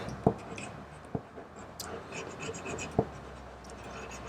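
Soft pastel dragged with heavy pressure across paper during a winter landscape painting, giving quiet, close scratchy strokes broken by a few sharper taps and scrapes, low and intimate.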